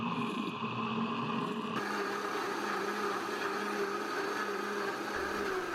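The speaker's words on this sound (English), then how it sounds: "When everything finally starts to easily move around in the blender, I'll increase the speed so it gets blended up like a smoothie." A kitchen blender purees fruit and vegetables into a smoothie, whirring in a continuous loud drone that shifts up to a higher speed partway through and then holds steady, with no talking.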